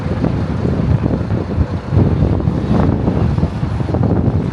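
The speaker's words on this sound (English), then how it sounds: "it's quite windy here" Steady, heavy wind buffeting a microphone, a low rumbling roar with gusty surges that never lets up.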